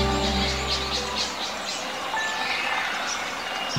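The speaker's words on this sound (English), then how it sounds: "The birds are loud today," Birds chirp in the Wii Sports video game, with repeated bright tweets over a busy ambient bed, while a low droning tone fades out early on.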